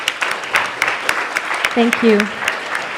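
An audience applauds the moderator at the end of a documentary film discussion at an Open Cinema event in Victoria. The clapping is steady and fairly near, and a voice speaks briefly over it.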